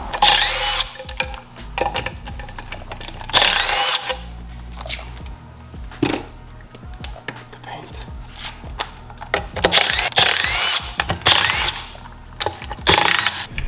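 Power tool spinning out 10 mm bolts from the magneto cover of a Sea-Doo 717 engine, with several short whirring, ratcheting bursts separated by pauses and handling clatter, close and fairly loud, with a voice speaking at times.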